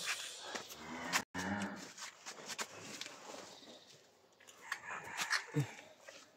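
Holstein Friesian cows with calves move about in a shed, giving a few low moos among shuffling steps and knocks, fairly quiet, with occasional talk nearby.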